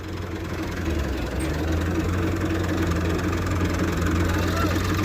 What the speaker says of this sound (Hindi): ट्रैक्टर आ गया जी।